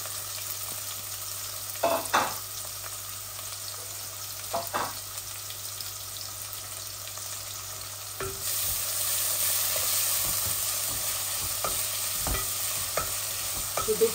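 Onion hits browned garlic with cinnamon and bay leaf in hot oil, sizzling steadily while a utensil scrapes and taps the pan in scattered strokes, the frying hiss swelling louder midway through.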